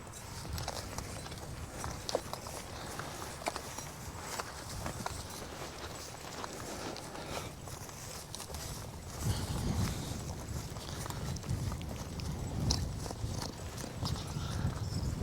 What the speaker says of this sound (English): The horses are working quite nice today.